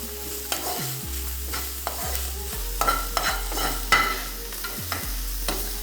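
Green fig and saltfish with chopped parsley is stirred around a pan for the St Lucian dish. A spoon scrapes the pan roughly once a second over a soft sizzle, with a steady low hum underneath.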